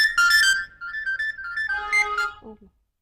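A melodic phone ringtone plays a short tune of clear electronic notes, loud and close, then cuts off into silence.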